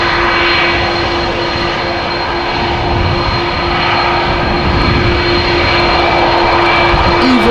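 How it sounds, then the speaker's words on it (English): An Airbus A330 powered by CF6 engines at Amsterdam Schiphol Airport produces a loud, continuous engine roar with a steady sustained whine running throughout. "Those are CF6s that you're hearing."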